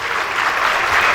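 Audience applause at a school annual day event, a dense steady wash of clapping filling the whole short stretch, loud and continuous with no voices on top.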